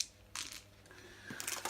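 Four regular six-sided dice from a Fallen Land board game box clatter onto a surface, with a quiet scatter followed by a brighter rattle at the end, close and fairly soft.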